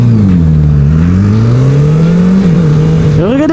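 A motorcycle engine revs hard and close, a loud sustained drone that rises and falls in pitch, then climbs sharply at the end as the throttle opens.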